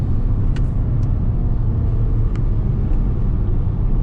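A 2021 Mercedes E53 AMG Cabriolet engine pulling at wide-open throttle from about 4,000 RPM out of a corner on hill roads, a dense, steady, loud rumble heard from the cabin.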